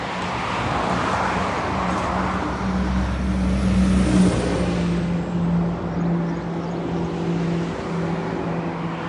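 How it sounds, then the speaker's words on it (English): Road traffic passes outside as a steady close roar of car engines and tyres, with one vehicle swelling louder midway before fading back into the continuous traffic rumble. "I just wanted you to see the traffic so you realize I'm not adding sound effects, it's really there."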